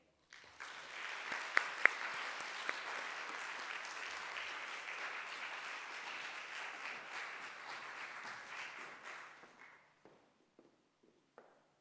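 Sustained audience applause welcoming two speakers to a fashion culture conversation event, with a few sharp claps and footsteps, holding steady for about nine seconds before fading to scattered taps.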